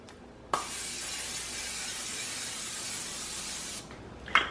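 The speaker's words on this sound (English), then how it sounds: "I'm just going to spray it with spray and we'll get started" A steady hiss of an olive oil cooking spray runs for about three seconds, close by, with soft clicks at the start and end, coating a slow cooker.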